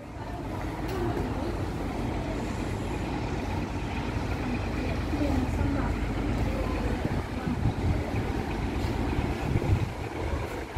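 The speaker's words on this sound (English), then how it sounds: "Here comes the main train." A diesel train pulls in on the Cleethorpes Coast Light Railway, a low, steady engine rumble heard at a distance, faint but continuous throughout.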